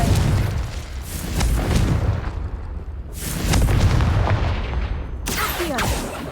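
Confringo fire spells blast in Hogwarts Legacy as three heavy, booming explosions, each with a rumbling tail, arrive about three seconds apart, loud and close.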